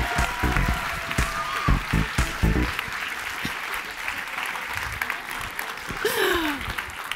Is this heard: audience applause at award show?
yes